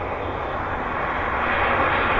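A jet aircraft takes off at Vancouver airport, a steady, loud engine roar holding even throughout without any talk.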